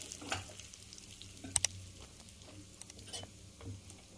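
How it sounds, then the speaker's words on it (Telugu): Mustard seeds and urad dal frying in hot oil for a tempering, giving a steady soft sizzle with a few sharp crackles and pops, heard alone without speech. "తిరగమాత వేసుకున్నానండి. ఆవాలు మినపప్పు అమ్మగా ఉంటుంది."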